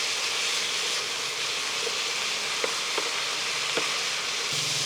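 Tofu sizzling steadily in a hot pan for a Thai basil stir fry, a constant frying hiss broken by a few light scrapes of stirring.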